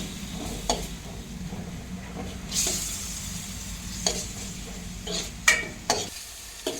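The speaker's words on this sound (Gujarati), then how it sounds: "અમે 2 રંગ ડુંગળીની પેસ્ટ બનાવી છે, એ આપણે એડ કરી દઈશું. ને બરાબર આપણે મિક્સ કરી લઈએ." Onion paste stirred into a frying pan along with ginger and chilli paste, a steady sizzle under repeated scraping strokes of a spoon and a few sharp clinks against the pan.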